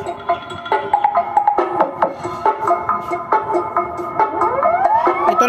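A 150-watt horn speaker on a Joson Mars Max amplifier blares music with a steady pulsing beat and siren-like rising tones, loud and harsh throughout.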